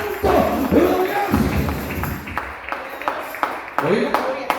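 Church congregation clapping hands during a worship service, a run of scattered claps and thumps rising over a steady murmur of voices, with a few sharper nearby claps standing out toward the end.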